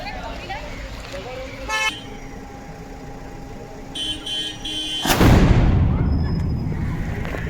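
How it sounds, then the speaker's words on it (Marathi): A small cannon is fired at the Achara gavpalan village festival, a sudden loud broadband blast near the five-second mark with a long rumbling decay, following a stretch of background crowd noise and a brief horn-like toot. "इथे बारकी तोफ पेटवत आहेत"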